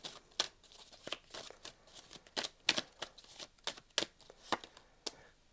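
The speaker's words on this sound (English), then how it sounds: "try not to drop all these cards. Scorpio, bit more of a shuffle." Tarot cards being shuffled in a steady series of crisp riffling bursts, close and fairly quiet, with no talking.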